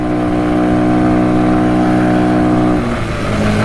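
A Yamaha Breeze mini quad runs at full throttle through snow, its engine holding a loud, steady high-revving drone close by before easing slightly near the end.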